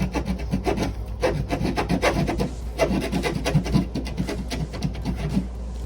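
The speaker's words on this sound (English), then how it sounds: "And then now that I'm through, I'm gonna just work the saw." A hand saw works back and forth through drywall to open a hidden wiring path for a flatscreen TV mount, giving steady, close rasping strokes in a continuous rhythm.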